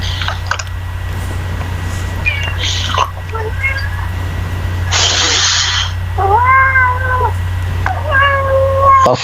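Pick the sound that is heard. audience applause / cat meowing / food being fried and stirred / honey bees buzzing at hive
cat meowing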